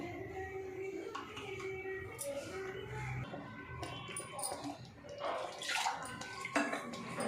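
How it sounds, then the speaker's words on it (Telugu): Water trickles and splashes as it is poured into a chicken curry masala for an Andhra-style spicy chicken curry, a faint, steady pouring with a few clinks from the pot. "కొద్దిగా వాటర్ యాడ్ చేసేసుకుందాము."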